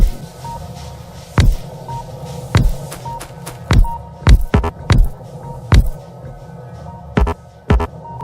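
Steam engine pistons in the video game Factorio run slowly, giving a series of heavy, uneven rhythmic thumps over a steady machine hum, loud and close with no talking.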